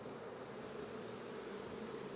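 Honeybees fan their wings at a hive during a heavy nectar flow, producing a dense, steady buzzing drone that holds evenly throughout at moderate, close-up volume.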